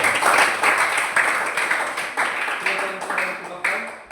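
Applause for a student group in a Catholic religious education classroom, a steady wash of many hands clapping together at close range, loud throughout and slowly thinning toward the end.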